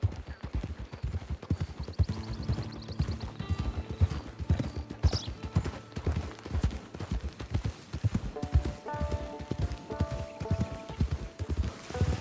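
Hooves clip-clop in a steady walking rhythm, close and clear, with occasional higher tones and a soft whinny-like sound, from a horse in Red Dead Redemption 2 Online.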